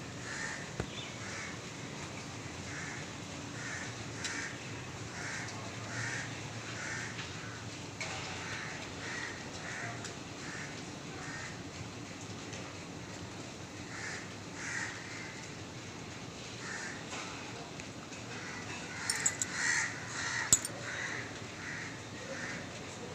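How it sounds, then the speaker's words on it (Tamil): Crow calling outdoors, a long series of rasping caws spaced in irregular bursts, fairly distant and soft against a quiet ambient background, with a few sharper sounds near the end. "தொடர்ந்து வந்து கத்திக்கிட்டு இருக்குது காக்கா"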